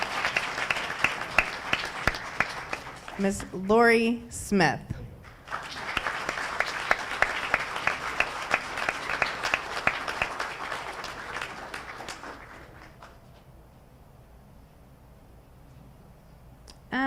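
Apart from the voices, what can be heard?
audience applause at a board meeting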